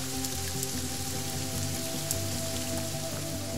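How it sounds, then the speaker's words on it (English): Steady, dense monsoon rainfall pattering on surfaces, a continuous wash of drops with a low tonal hum running underneath throughout. "when it rained, it was an unceasing downpour."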